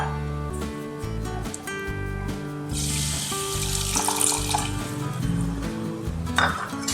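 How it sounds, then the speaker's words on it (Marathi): Half a bowl of water poured into a kadhai holding ghee and four spoons of jaggery, a rushing splash over steady background music. "आणि याच्यात अर्धी वाटी पाणी घ्यायचं"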